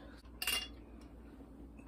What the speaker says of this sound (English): I'm gonna get this knife down in there.